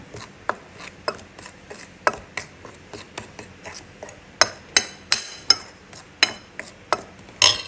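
Ginataang kalabasa, squash simmering in coconut milk, stirred in a pot: a spoon knocks and scrapes against the pot in irregular, sharp clicks, growing louder toward the end, with no talking.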